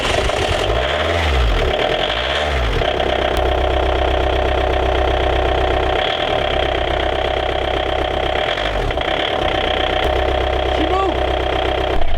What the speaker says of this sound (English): We got to get this engine running for a couple of minutes to bring the transmission up to temperature.